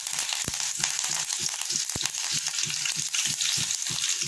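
Mustard seeds and cumin are tempered in hot oil for a coriander chutney, a steady sizzle broken by rapid, sharp crackling pops throughout, close by and with no voices.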